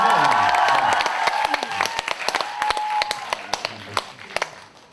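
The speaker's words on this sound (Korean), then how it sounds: "강요에 의한 이런 박수는 더 기분이 납니다." An audience at a mentoring talk concert claps, first as a dense burst under a speaking voice, then thinning into sparse, separate claps that fade away.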